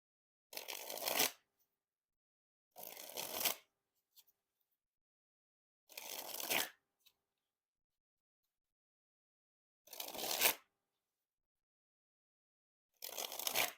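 Shin Lim NOC playing cards dribbled from hand to hand, five separate fluttering riffles each lasting under a second, crisp and close, separated by silence.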